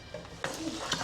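A spoon working through a thick macaroni and cheese mixture in a bowl, a brief close wet stir with a couple of soft scrapes, no voices.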